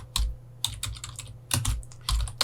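Close, crisp typing on a computer keyboard, a quick cluster of key clicks in uneven bursts with short pauses, and no voice over it.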